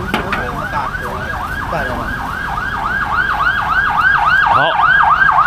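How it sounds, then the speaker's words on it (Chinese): An ambulance siren wails loudly nearby in a street where durian is being eaten, its repeating rising-and-falling yelp cycling steadily over traffic rumble and growing stronger as the vehicle passes. "救护车过去了。"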